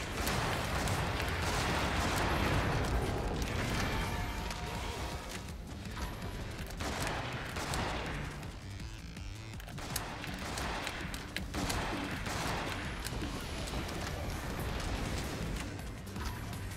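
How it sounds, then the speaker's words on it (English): Shots fired in a video game, repeated volleys and crashing impacts that rise and fall across a busy combat mix, with no voices. "Shots being fired upon the abductor."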